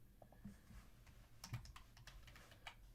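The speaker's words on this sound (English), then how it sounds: "Man, I'm bad at typing sometimes." Quiet clicks of typing on a computer keyboard, a few scattered keystrokes and a short cluster, faint and close in an otherwise hushed room.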